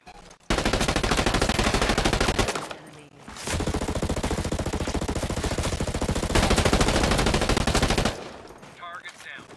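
Sustained bursts of automatic gunfire in the tactical shooter Ghost Recon Breakpoint during online PvP, loud and dense rapid volleys with one short pause, then tapering off near the end.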